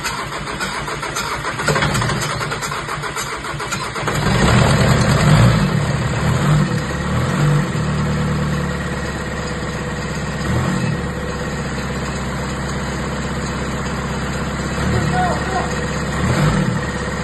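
A rebuilt engine in a VW Golf 5 starts for the first time, revving briefly and then settling into a steady idle with a few small surges, loud and close, with voices talking over it.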